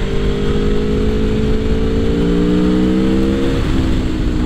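A 2021 Aprilia Tuono V4 Factory, a 175-horsepower V4 naked motorcycle, pulls hard under acceleration, its loud engine note climbing steadily in pitch through the gear, close and continuous with no talking.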